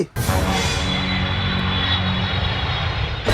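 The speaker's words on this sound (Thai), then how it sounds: "มีเครื่องบินอีกลำหนึ่งบินมา" Airplane engines drone loudly and steadily from close by as another aircraft flies toward the plane, a continuous roar with no pauses.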